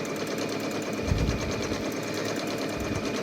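Sewing machine darning a hole in jeans: fast, continuous mechanical rattling of stitching at steady speed, close and fairly loud throughout.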